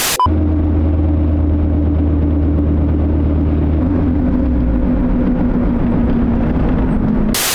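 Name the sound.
rotational grinding noise from Cupra car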